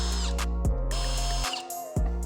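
A power tool drives screws out from under the fender of a Corvette C8, a close whirring buzz in short bursts with brief pauses between.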